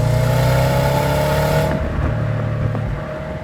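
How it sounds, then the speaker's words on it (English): Subaru WRX STi's 2016 boxer engine revving loudly up close, a gruff, throbbing note that drops away abruptly about halfway through and leaves a quieter idle rumble. "Plus you've got that boxer engine note, which is dirtier than a teenage boy's search history."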